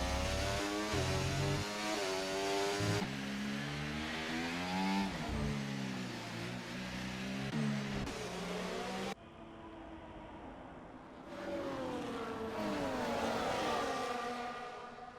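F1 24 race cars on the final lap of the British Grand Prix, engines screaming as they climb and shift through gears, one car close and loud, others passing, a brief drop before the roar returns.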